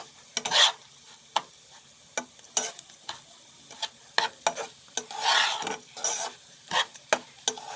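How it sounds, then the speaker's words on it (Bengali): Pulao ingredients frying and being stirred in a pot, with irregular scraping stirs and bursts of sizzling close by, no voices. "তো আমার এখন ভাজা ভাজা হয়ে গেছে প্রায়"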